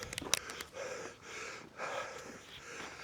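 Heavy, ragged breathing from a cyclist catching breath after riding an e-bike up a hill, with gasps and panting close to the microphone and no talk.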